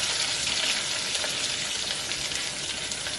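Sliced onions and split green chilies fry in a pan with a dense, continuous hiss and crackle that stays loud and even throughout, with no voices.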